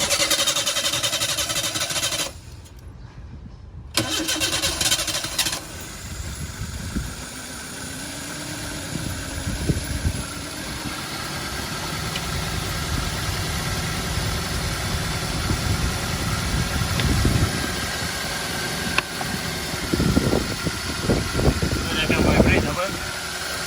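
A car engine, just cleaned with intake cleaner spray, turns over and settles into a steady idle, with a continuous mid-range hum and occasional clanks as someone talks throughout.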